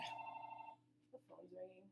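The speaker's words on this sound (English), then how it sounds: "The phone's ringing." A telephone ringing indoors with a sustained electronic tone that cuts off, then someone speaking over the quiet afterward.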